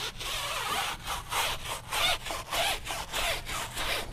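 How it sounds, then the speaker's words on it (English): Wheel brush scrubbing a car wheel during cleaning, a rhythmic series of about ten close, raspy back-and-forth strokes at an even pace, moderately quiet with no voices. "So I'm gonna grab my wheel brush to start. Give us a good scrub."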